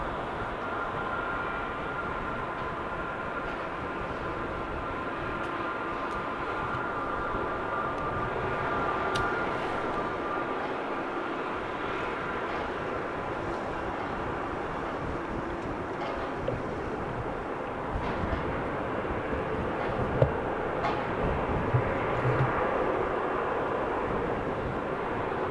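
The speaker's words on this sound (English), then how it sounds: "So this Neo is going to Valencia in a 2-year-old A320 Neo." Airbus A320 Neo, two years old, at Amsterdam Schiphol Airport, a broad steady jet engine rumble and whine heard from a distance, continuous with faint background noise and a few small knocks.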